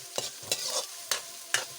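Ingredients for Shanghai-style fried rice are stirred in a frying pan with a soft sizzle underneath, and four sharp scraping strokes land at an uneven pace in under two seconds.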